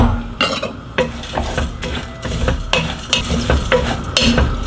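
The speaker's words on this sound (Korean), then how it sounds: "5분 정도 더 볶아줍니다" Glutinous rice porridge ingredients, including sticky rice, shiitake mushrooms and pine nuts, stir-fried in a pot, with a steady sizzle and repeated scraping and clinking of a spoon against the pot, close and loud.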